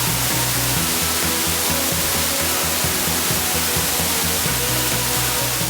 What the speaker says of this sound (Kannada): ಬೆಟ್ಟಗುಡ್ಡಗಳ ಮಧ್ಯೆ ಹರಿದು ಬರುವ ಜಲಧಾರೆ ಕಣ್ತುಂಬಿಕೊಳ್ಳಲು ಚಿಕ್ಕಲೆ ಫಾಲ್ಸ್ ಕೈ ಬೀಸಿ ಕರೆಯುತ್ತಿದೆ